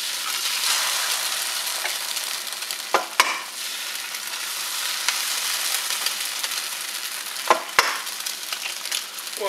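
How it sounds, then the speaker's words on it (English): Eggs cracked into a hot frying pan of softened peppers, a steady close sizzle with a few sharp knocks and taps as the shells break over the pan, no voices. "Time to crack the eggs."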